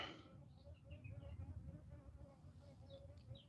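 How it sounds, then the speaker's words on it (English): A bee buzzes faintly near bricks outdoors, a thin wavering drone that drifts in and out at low volume with no talking. "a bee inspecting the bricks"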